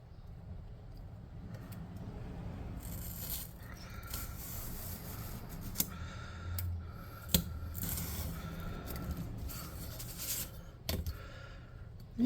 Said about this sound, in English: Now let's cut this inside portion out.